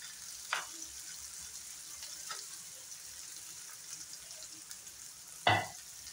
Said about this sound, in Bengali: আবার একটু সময় ফ্রাই করে নেব।